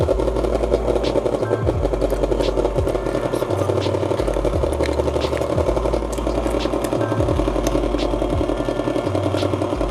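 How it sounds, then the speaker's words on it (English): A stand mixer whirs steadily and loudly, beating eggs into a keto cake batter, its motor drone continuous with slight shifts in pitch and rhythmic thumps as the beaters turn. "So I'm gonna slow my mixer down just a little bit."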